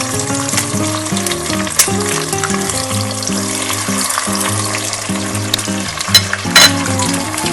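Eggs frying in hot oil in a pan for egg fried rice, a loud, steady close-up sizzle and crackle with occasional clinks of a utensil against the pan, over a constant hum.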